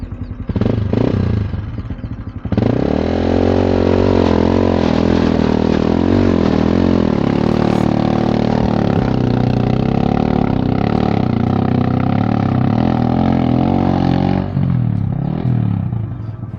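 An off-road motorcycle, a Yamaha Tenere 700 or Kawasaki KLX 300, on the Trans America Trail: a loud, close engine roars and revs for about twelve seconds with a wavering pitch, then drops back to a lower rumble.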